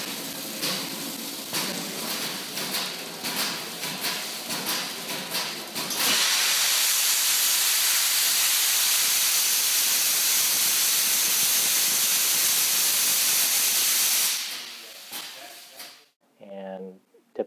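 A loud, steady rush of air hissing out under pressure for several seconds as moisture is blown out of a cylinder during hydrostatic testing, preceded by rhythmic pulsing noise, then tapering off as a voice briefly speaks.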